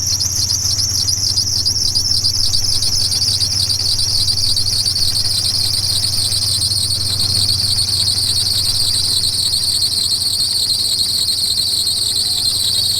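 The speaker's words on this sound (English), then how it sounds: "alternator's not spinning. Belt's spinning on the alternator." A slipping engine belt squeals steadily and loudly against a seized alternator that is not turning, a continuous high shriek with a low engine hum underneath.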